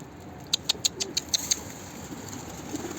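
Pigeons flap their wings in a quick series of about seven sharp, close claps, then the flapping fades into a soft background rustle with a faint call near the end.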